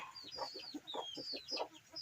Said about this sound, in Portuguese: Prazer de criar galinha é esse